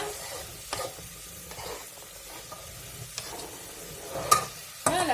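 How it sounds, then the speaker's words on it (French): Chopped vegetables, including potato and carrot, sizzle steadily in a hot pan while a utensil stirs and scrapes through them, with a few louder clinks near the end and no voices. "Je mijote encore le tout pour quelques minutes"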